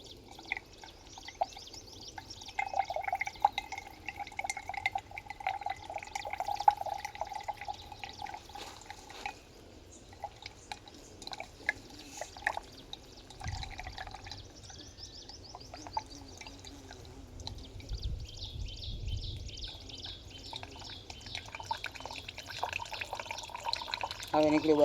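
Coconut water trickles and pours from a freshly cut coconut into a glass on a farm, a soft, faint, uneven liquid patter running beneath nearby speech throughout.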